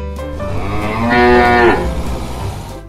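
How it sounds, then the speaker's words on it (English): A cow lets out a single long, loud moo with a rising then falling tone, heard alone against low background noise. "Cow."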